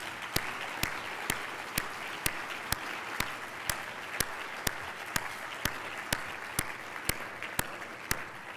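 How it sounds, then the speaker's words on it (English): Faint, distant applause from a global health conference audience, a soft steady wash of clapping with sharp regular ticks running through it. "everybody give him a big round of applause"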